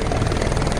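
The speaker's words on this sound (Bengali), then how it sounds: "দেখাচ্ছে একটা হেলিকপ্টার আসছে," Helicopter flying near the Panchtarni stop on the Amarnath pilgrimage route, a steady, loud, continuous rotor and engine drone held throughout the short moment with no speech.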